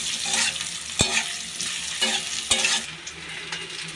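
Boiled potatoes frying in hot oil in a pan, a steady sizzle with two or three sharp stirring knocks of a spatula against the pan, close and alone with no voices.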